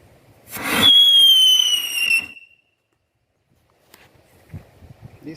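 A KHP whistle-fuel firework fired in a friction and shock test gives a loud, ear-piercing whistle that slides slightly downward for about two seconds and then cuts off, followed by silence and faint scuffing noises.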